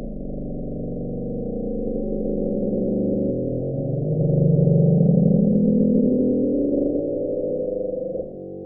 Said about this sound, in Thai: เลยตั้งชื่อเสียงนี้ว่า The Bloop